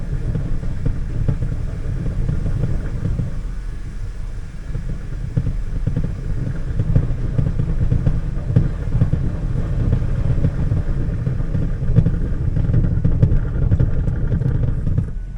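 A 2002 Dodge Ram 2500 with the 5.9L engine rumbles steadily on a drive, a continuous low, loud engine drone with road noise close by and no talk over it.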